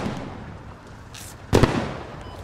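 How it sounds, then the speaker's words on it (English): Gunfire in the military shooter Squad: a single sharp, loud crack with a short tail stands out from a quiet outdoor backdrop, preceded by a faint distant hiss. "There's still shots being fired from the northeast."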